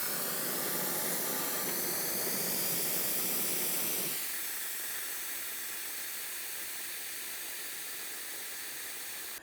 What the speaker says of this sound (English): we want to remove as much fluid from inside of the master cylinder as possible